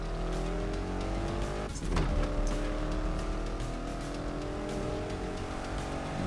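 Racing car engine in the video game NFS Unbound drones steadily throughout, loud and close, with a brief swell of tire noise around the middle and music underneath.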